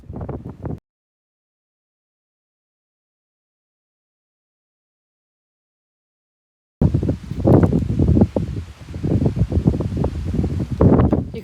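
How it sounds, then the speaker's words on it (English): Strong wind buffets the microphone in heavy, gusting roars near a waterfall in Northern Ireland after a long stretch of silence, with a short burst of wind noise at the very start. "even today it's incredibly windy"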